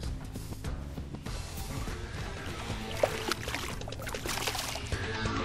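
Big trout released back into a river after balloon fishing, with steady sloshing and splashing water, several small splashes and a sharp slap midway, fairly close with no talking.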